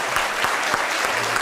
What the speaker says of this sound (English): y'all gonna clap?